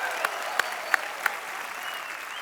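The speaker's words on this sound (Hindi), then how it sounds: "एक बार फिर से तालियां बनती हैं भाई।" Studio audience on The Kapil Sharma Show breaking into applause, a dense steady wash of clapping from a crowd with a few sharper individual claps standing out near the front.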